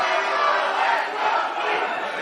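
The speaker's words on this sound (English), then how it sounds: "this crowd goes crazy for Moose" A dense wrestling arena crowd roaring and cheering for the wrestler Moose, a steady, loud wash of many voices with no breaks.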